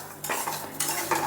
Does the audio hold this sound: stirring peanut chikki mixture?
yes